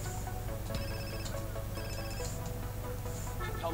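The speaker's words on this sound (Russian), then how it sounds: "значит мне сейчас позвонят по телефону" A telephone ringing in GTA San Andreas, repeated electronic ring tones in a steady pattern of short bursts over a low game background hum, moderately quiet.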